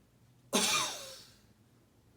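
A single sharp, forceful cough during an assisted coughing exercise, bursting out suddenly and trailing off into quiet, with no talking.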